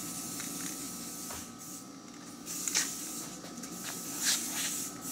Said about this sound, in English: mask it off to put a coat of primer on the mounting bars